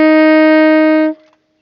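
A clarinet holds a single clear, steady tone for about a second, loud and close and played alone, then it cuts off into near silence.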